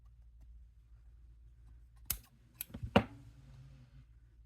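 Scissors snip macrame bracelet cord right next to the knot, giving two or three sharp close clicks in an otherwise quiet moment.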